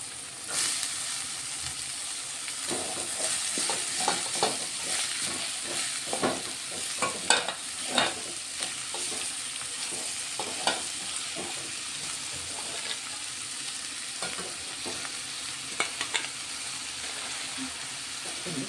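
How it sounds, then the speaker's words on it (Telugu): Chopped cabbage sizzles and crackles in a hot pan for a Telugu cabbage and chana dal curry, with repeated scraping stirs of a spoon, steady and close throughout. "ఇప్పుడు ఇందులో కట్ చేసుకున్న క్యాబేజ్ తీసుకుంటాం."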